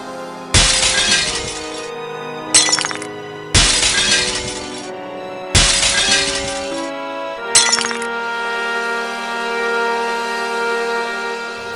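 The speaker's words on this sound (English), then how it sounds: "the windows broke all over town" Glass shatters loudly four times in a row, each crash spaced about two seconds apart, over sustained musical tones that ring on after the last break.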